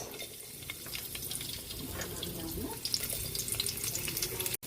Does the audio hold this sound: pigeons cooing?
no